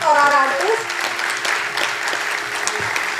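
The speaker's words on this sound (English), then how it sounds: "May I please have another round of big applause for our artist?" A crowd applauding a mridangam artist at a music awards event, a dense continuous patter of clapping that stays steady throughout, with voices mixed in and a brief tonal sound at the start.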